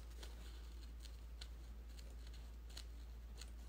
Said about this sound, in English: And my scissors are dull because I have used them on everything.